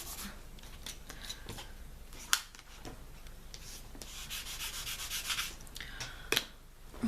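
Nail stamping stamper and plate being wiped clean, a steady close scrubbing and rubbing with a few sharper scrapes, continuous throughout with no talking.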